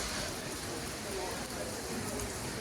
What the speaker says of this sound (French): Il pleut énormément, je sais pas si vous voyez dans la caméra.